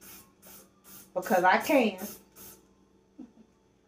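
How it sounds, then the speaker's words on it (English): Aerosol can of mint-scented spray puffed in a kitchen, a series of short hissing bursts in a steady rhythm, close by, with a person briefly talking over the middle bursts. "I'm finna spray some of my mint stuff in here."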